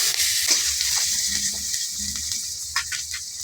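Dried red chillies and peeled garlic cloves sizzle and spit steadily in hot oil in a kadai, with a loud, continuous frying hiss and occasional stirring.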